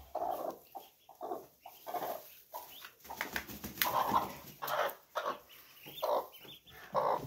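A hen clucks and calls repeatedly near newly hatched ducklings on a Konkan farm, with intermittent chirps and soft rustling between the bursts of clucking.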